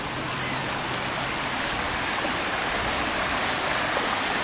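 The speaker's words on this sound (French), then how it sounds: "On se retrouve avec un petit passage d'eau." A small stream of water flows in a nature park, a steady, broad, close rushing hiss that holds unbroken throughout with no voices.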